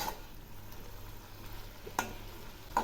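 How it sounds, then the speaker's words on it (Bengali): Pumpkin greens with green chillies are stirred in a pan over a quiet, low sizzle, with two or three light clinks of the utensil against the pan. "এই শাকগুলো আবারও একটু নেড়ে দিচ্ছি"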